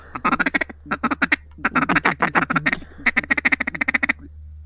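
Mallard ducks quack on a frozen river in loud, close, rapid series of raspy calls, three bursts of repeated quacks over a low steady hum.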